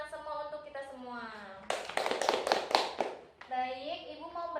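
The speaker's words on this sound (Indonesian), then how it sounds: "Beri tepuk tangan semua untuk kita semua." A classroom of children claps for about 1.7 seconds after a teacher's prompt, a dense burst of many hands sandwiched between stretches of the teacher talking.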